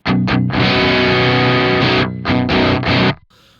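Loud overdriven electric guitar through a Joyo Argos drive pedal playing a few chords with short choppy stabs at the start and end and a long sustained chord between, then it cuts off.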